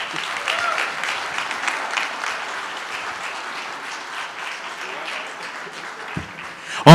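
Steady audience applause at a talk on Haitian compas music, a dense even wash of many hands clapping through the whole stretch, fairly loud and continuous, ending with a sharp burst at the close.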